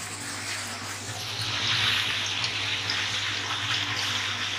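Water pours into the tank of a pipe friction apparatus as a steady, close rush that swells louder partway through.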